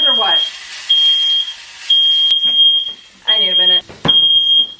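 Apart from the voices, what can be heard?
smoke alarm beeping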